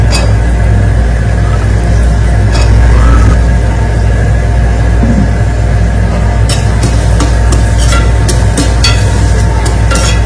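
Washed green peas go into a dhaba-style potato and pea gravy frying in released oil and are stirred, producing a loud, continuous close sizzle with sharp scraping clicks of the spoon toward the end.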